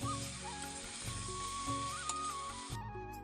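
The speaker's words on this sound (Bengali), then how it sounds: "তারপর আমি কাঁঠালের সবজিতে একদম আলুগুলো দিয়ে একটু ভালো করে কষিয়ে নিচ্ছি ঢাকনা দিয়ে 2-3 মিনিট।" Jackfruit curry with potatoes sizzling steadily in a pan under a lid, a continuous close hiss that cuts off near the end.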